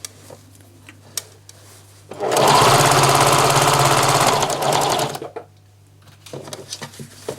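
A sewing machine runs steadily for about three seconds while stitching a sun dress, loud and close, then stops, with quiet handling noises before and after.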